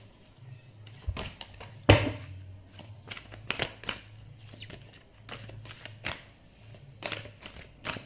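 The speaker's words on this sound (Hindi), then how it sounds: "जब तक कि मैं कार्ड शफल कर रही हूँ" A deck of tarot cards is shuffled close by, a quiet run of irregular riffles and flicks with one louder snap of the cards.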